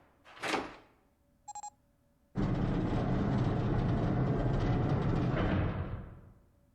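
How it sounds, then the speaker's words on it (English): A door opening in the Zero Escape: 999 game, beginning with a short whoosh and three quick electronic beeps, followed by a loud sustained rumbling slide that runs for about four seconds and then fades out, with no talking. "The door opened."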